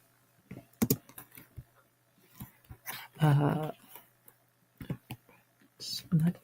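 Fingers tapping a computer keyboard in soft, scattered bursts of clicks, close and quiet, with a person speaking quietly between and over the keystrokes.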